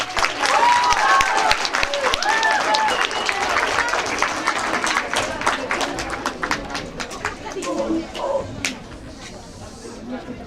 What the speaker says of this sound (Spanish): Un forte aplauso.